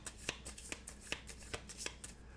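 Cards for level 1 monsters in a board game being shuffled by hand, a series of crisp riffling bursts close up, about six sharp flurries spaced irregularly over a couple of seconds with no talking.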